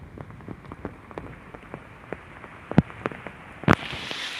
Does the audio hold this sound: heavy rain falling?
yes